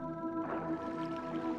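A chu creature in The Legend of Zelda: Twilight Princess makes a soft, wet squish inside the water temple, heard as a brief gurgle over steady watery ambience and a droning musical background.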